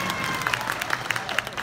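A concert audience in Atlantic City claps in a dense, continuous burst of applause with scattered cheers, filling the hall at an even level without a break.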